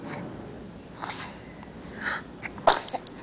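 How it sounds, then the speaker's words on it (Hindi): A child sneezes, with a few small sniffs and breathy bursts leading up to one sharp, close sneeze near the end, followed by a quick snort, all fairly quiet with no talking. "इस बच्चे को छींके आ गए थे।"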